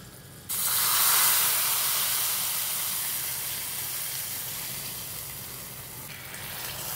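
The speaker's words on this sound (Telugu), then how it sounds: "ఈ పోపు వేగిపోయిందండి. ఇప్పుడు ఈ పులుసులో వేసేస్తున్నా." Hot tempering is poured into Andhra-style spinach pulusu, setting off a sudden loud hissing sizzle that bursts up close, then slowly fades to a softer steady simmering hiss, with no one talking.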